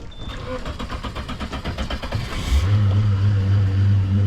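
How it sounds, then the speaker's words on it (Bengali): A speed boat engine at Patratu Valley cranks with a rapid whirring buzz, then catches about halfway through and settles into a loud, steady, low idling rumble close by. "আমরা এখন চলেছি স্পিড বোট রাইড করতে পত্রাতু ভ্যালিতে।"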